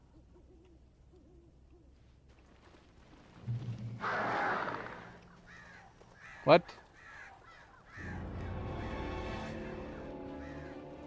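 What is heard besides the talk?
owl and crow calls in Alan Wake video game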